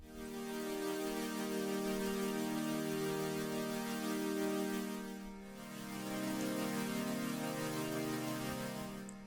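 A warm synth pad with a slow, swelling attack and gentle LFO vibrato holds dense sustained chords, briefly dipping midway before rising again, steady and alone.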